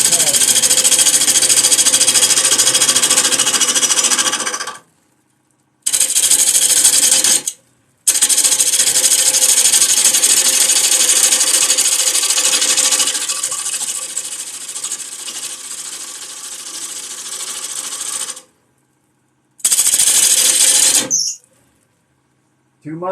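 Gouge with a 40/40 grind cutting across a small wooden bowl on a small lathe, making loud, harsh, rattling bursts of cutting noise that stop and restart between several passes.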